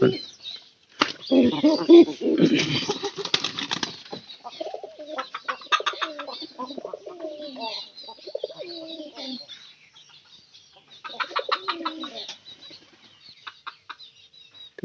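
Pigeons coo in soft, repeated throaty bursts, with some wing flutters and a voice talking intermittently.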